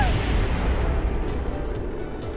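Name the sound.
rocket engine explosion in Kerbal Space Program video game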